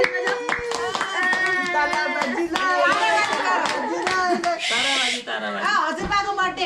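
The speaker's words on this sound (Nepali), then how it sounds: "ताली बजाऊ छोरी ताली बजाऊ" A young daughter and family clap their hands at a Dashain family celebration, making irregular bursts of claps mixed with lively voices talking and singing nearby.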